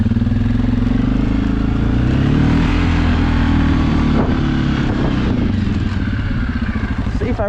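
Suzuki KingQuad ATV with diff lock churning through deep snow in a snowstorm, a loud close engine drone that rises and falls under load, with clattering and shifting revs.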